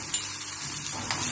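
A few cumin seeds crackle in hot oil in a small spoon, a steady close-up sizzle with faint clinks.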